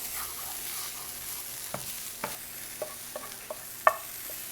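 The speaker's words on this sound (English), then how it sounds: "let's give our peppers a mix." Peppers frying in a pan are stirred with a utensil, producing a soft sizzle under several distinct scraping knocks against the pan, close and without speech.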